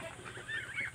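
Tame backyard chickens let out a brief, faint burst of clucking and squawking, a second or so of low-level calls with no talking.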